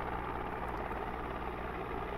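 A small helicopter's engine and rotor in a flight simulator game drone steadily and loudly, unbroken and without talk.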